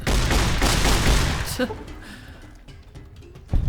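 Dense bursts of gunfire from the Fallout: New Vegas video game crackle loudly for about a second and a half, then fade into quieter game noise with a final sharp shot, with a player talking.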